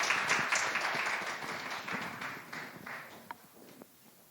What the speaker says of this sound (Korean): 우리 다시 한번 우리 박수하도록 하겠습니다.